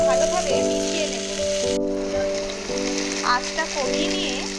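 Mixed vegetables frying in a pan as salt is added and stirred in, a steady broadband sizzle with scraping stir sounds and a sustained tonal hum running underneath.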